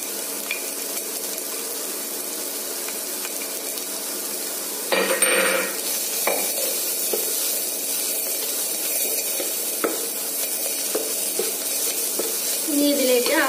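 Crushed coconut and green chili for a Malayalam-style chembila thoran (taro leaf stir-fry) are added to a hot pan, with a burst of sizzle and frying followed by steady stirring and scraping, moderately close.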